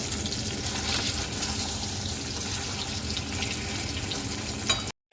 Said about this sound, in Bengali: সবগুলোই কিন্তু আমি এইভাবে ভেজে নিচ্ছি